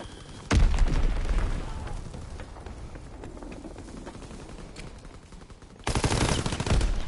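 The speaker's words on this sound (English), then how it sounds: "Enemy bomb incoming. Get to cover." Gunfire and an enemy bomb explosion in a World War II shooter game, with sharp rapid bursts of gunfire and two loud booming blasts near the start and end, plus scattered shots between.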